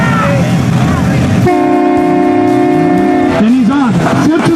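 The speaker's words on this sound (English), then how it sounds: "When you hear that train horn, you give her all she's got" A train horn signals the start of a run at a mud bog event, sounding as one loud, steady blast of about two seconds between stretches of roaring engine noise and voices.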